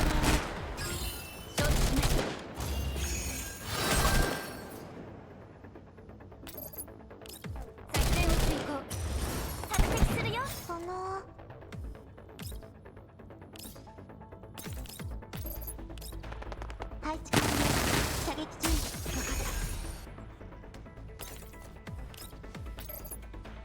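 Bursts of gunfire in the video game Girls' Frontline 2: Exilium, with repeated loud volleys and rapid shots, separated by quieter gaps, and a player's voice heard faintly between them.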